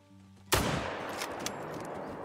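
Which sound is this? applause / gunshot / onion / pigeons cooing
gunshot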